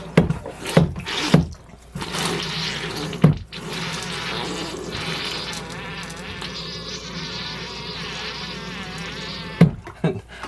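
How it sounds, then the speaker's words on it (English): A Dometic 300 Series RV toilet (commode), just repaired after bowl leaks, gives off a steady buzzing, whirring hum with a watery edge for about six seconds, bracketed by louder knocks and clunks at the start and end. "that was the commode making that noise"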